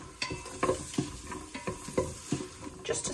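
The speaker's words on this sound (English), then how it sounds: "We're just sauteing that now, as you can hear" Vegetables sautéing in an Instant Pot for beef stew, a steady close sizzle with repeated scraping stirs of a utensil against the pot at an uneven, roughly half-second rhythm, no talking.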